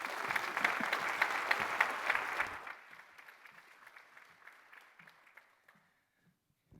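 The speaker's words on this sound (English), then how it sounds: "Big round of applause for Commissioner Rios." Audience applause for Commissioner Rios at a Middlesex County morning gathering, a full room clapping steadily for a few seconds before it thins out to scattered claps and then stops.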